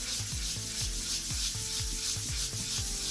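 Wet sandpaper scrubs back and forth over a scratched composite stone surface in quick, regular rubbing strokes, close and fairly steady, with a slick gritty sound and no talking.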